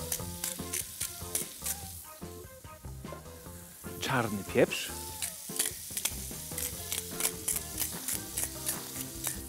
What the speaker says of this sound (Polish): w międzyczasie, kiedy polędwiczka się smaży